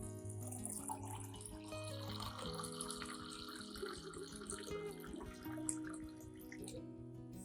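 About a liter of room-temperature water runs and splashes steadily into a container to dilute a plant fertilizer solution, for several seconds, close by and fairly quiet, with faint background hum.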